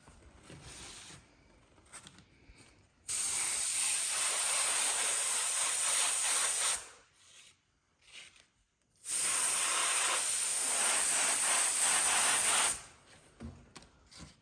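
Harbor Freight airbrush spraying black paint: two sustained bursts of loud, steady hissing, each about four seconds long, separated by a short pause, with quiet handling sounds before, between and after.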